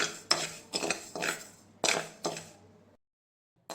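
Dry rice is roasted in a metal pan and stirred with a spoon, producing several sharp scraping clinks in an irregular rhythm, then a brief silence and one more clink.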